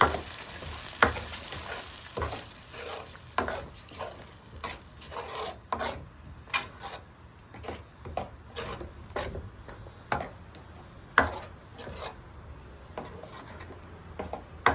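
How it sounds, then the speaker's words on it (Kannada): Thick masala mixture for fish curry sizzles steadily in a pan while a spoon stirs and scrapes through it, giving a regular series of rasping strokes against the metal over a low frying hiss. "ಈಗ ಮಸಾಲೆ ಮಿಶ್ರಣ ಚೆನ್ನಾಗಿ ಮಿಕ್ಸ್ ಮಾಡ್ಕೊಳ್ಳೋಣ"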